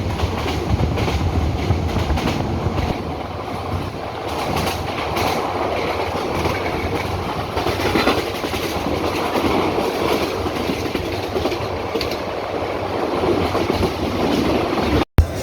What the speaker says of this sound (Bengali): এই যে ঝিকঝিক ঝিকঝিক ঝিকঝিক করে ট্রেনটা ছুটছে